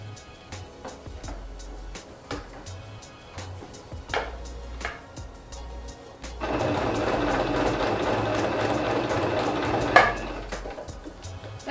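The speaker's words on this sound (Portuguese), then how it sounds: "vamos entrar com a lombada aqui na máquina e vamos fazer uma costura dos dois lados" A sewing machine stitching along both sides of a photo album spine, first in short bursts and then running steadily and loudly for several seconds up close.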